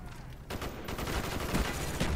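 Gunfire in Call of Duty Black Ops on Xbox 360, a sudden loud run of rapid automatic shots that kicks in after a brief quieter moment and keeps rattling steadily to the end, close and punchy.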